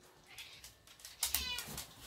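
A cat meows indoors, a few short, fairly faint cries clustered in the second half, over a quiet background.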